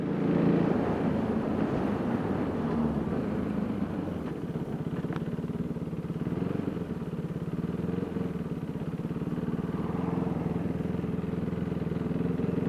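A KTM Duke 390 motorcycle engine drones steadily while riding, a continuous close rumble with no talk over it.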